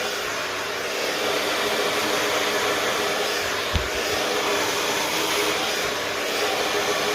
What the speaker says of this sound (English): Scooping the dryer underneath the brush